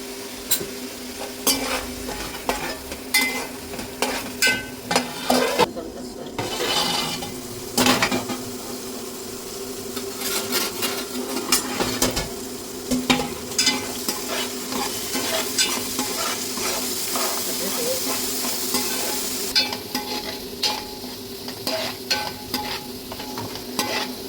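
Fish curry base frying in a covered pan gives a continuous sizzle, broken by repeated sharp clinks and scrapes of utensils against the pot, close and moderately loud, with no speech.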